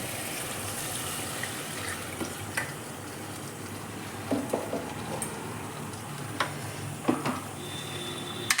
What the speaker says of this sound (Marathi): तेल सुटतंय मस्त आणि हे आपण मसाल्याचं पाणी टाकून